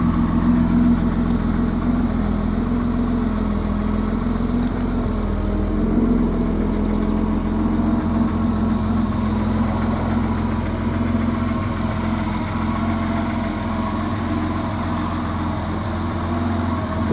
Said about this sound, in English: the engine's running now, so you'll see how well it runs